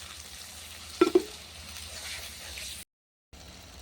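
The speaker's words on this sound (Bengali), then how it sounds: "তেলটা আমার মশলা থেকে ভালো করে কষিয়ে নিয়েছি" Ground spices sizzling in oil in a pan for a beef tripe and eggplant curry, a soft steady frying hiss with two quick knocks early on and a brief gap of silence near the end.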